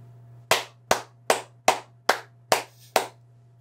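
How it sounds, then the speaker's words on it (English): Seven sharp hand claps in a steady, even rhythm, close and crisp, over a low constant hum. "Liam, why were you applauding yourself?"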